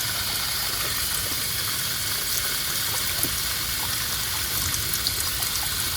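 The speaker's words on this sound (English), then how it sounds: "So we'll just run this water through for a while." Water runs steadily through the cooling system of a 1988 Ford Bronco that sat for 24 years, a constant close gushing hiss with no breaks.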